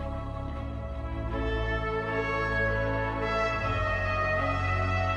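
A tonal stinger from a music theme plays by itself, a sustained harmonic musical swell at steady moderate loudness with no voices.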